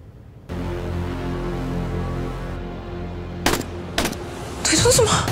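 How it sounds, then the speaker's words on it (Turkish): A few sharp gunshot cracks ring out, one, then another, then a longer burst, over a steady low hum and murmuring voices. "Duydunuz mu? Silah sesi mi o?"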